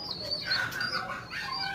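Pigeons and doves kept in a loft with their young, including short-faced crosses and dove chicks, give a soft continuous flutter of wings mixed with faint chirps, close and steady throughout.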